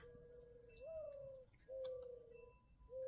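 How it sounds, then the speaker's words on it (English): Soft, low cooing from doves repeats in drawn-out phrases, faint and somewhat distant, with a few light chirps from other birds in the background. "Oh, I hear the doves."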